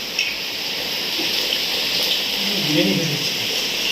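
Heavy rain pours steadily outside a home kitchen where vegetable fritters are being fried, a continuous broadband wash of falling water heard fairly close and even, with faint background voices.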